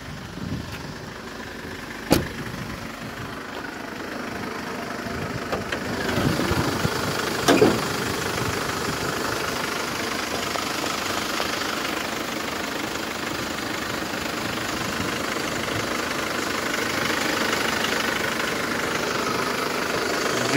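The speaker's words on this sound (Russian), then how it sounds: "Двигатель работает хорошо." A 2015 Mercedes Sprinter 316 van with a 163 hp diesel engine, idling with the hood open. It gives a steady, even drone with a couple of brief clicks and bumps near the start.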